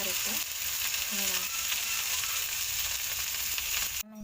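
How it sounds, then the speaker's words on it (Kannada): Fenugreek leaves frying in a little oil in a pan, giving a dense, continuous loud sizzle with a steady hiss throughout. The sizzle cuts off abruptly near the end, and a faint voice is heard at moments. "ಸ್ವಲ್ಪ ಎಣ್ಣೆ ಹಾಕ್ಕೊಂಡು ಫ್ರೈ ಮಾಡಬೇಕು"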